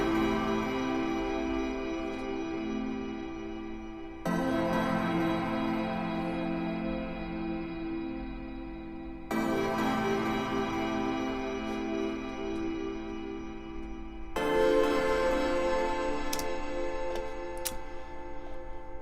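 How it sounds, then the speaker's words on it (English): Soft synthesizer pad chords sustain alone in slow, evenly spaced swells, with a new chord entering about every five seconds over a steady low drone, warm and moderately loud. "I feel like it would have a really cool pad sound kind of like this."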